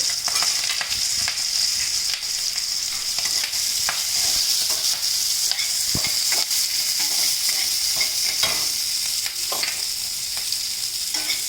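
Onions, finely chopped curry leaves and cut green chillies frying and being stirred in a hot pan, a continuous loud sizzle with scraping stirs throughout, no voices.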